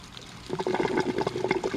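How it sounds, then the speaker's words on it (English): Water gurgles and splashes in quick uneven bursts as vegetable garden beds flood and drain, close by, starting after a short quiet moment. "So, as you can see, these are flooding and draining."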